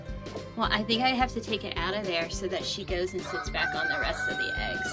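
A backyard rooster crows beneath continuous close talk, with clucking hens nearby around a nest where a chick has hatched.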